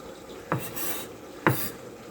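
A knife chops onion on a cutting board in three sharp, evenly spaced strokes, close and fairly loud, with a quiet pause between each cut and no talking.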